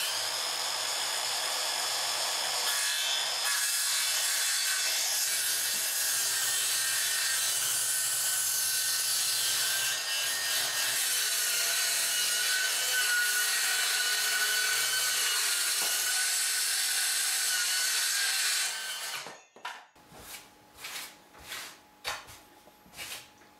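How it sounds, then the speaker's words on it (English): Wood being cut in a workshop to make beaded cladding for handmade doors. A loud, continuous rasping cut runs for most of the time, then gives way to a series of distinct, rhythmic back-and-forth hand saw strokes. "And I still struggle with enjoying hand sawing."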